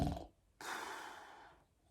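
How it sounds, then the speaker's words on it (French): A lazy creature snores from deep in a hole, one brief breathy snort and then a longer rasping inhale that fades out, heard alone. "Ça ronfle au fond d'un trou."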